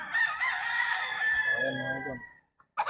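Young game-farm rooster (stag) crows once, a loud close drawn-out call that fades after about two seconds, followed by a brief quiet and a short burst of another sound.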